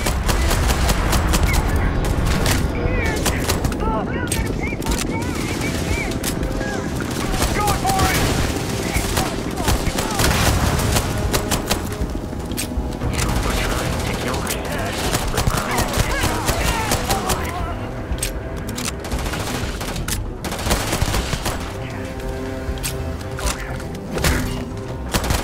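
Pistol gunfire and combat sounds from the video game Starfield, a dense, continuous barrage of shots and thuds with game music and effects throughout, loud and unbroken.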